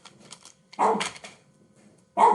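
A pet dog barks at home during an online lesson, with a short burst followed by a louder bark, then another after a pause, fairly close and with no talking.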